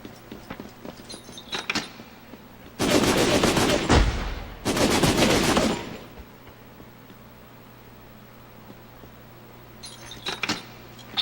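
Automatic gunfire in the PS2 game Syphon Filter: The Omega Strain, two loud sustained bursts of rapid shots about a second apart, followed by quiet and a few faint sporadic shots at the end.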